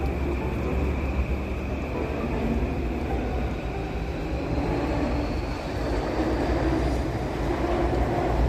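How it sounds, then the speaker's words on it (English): A green Yamanote Line train rolls past in Tokyo's Shinjuku area, a steady loud rumble of wheels and rail lasting throughout, with a faint higher whine over the low roar. "Above, we can see the Yamanote Line train with its distinctive green color, linking the main points of the city."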